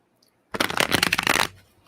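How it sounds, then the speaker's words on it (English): A deck of tarot cards is riffled in one quick, crisp shuffle lasting about a second, close and alone in a quiet room. "One more shuffle."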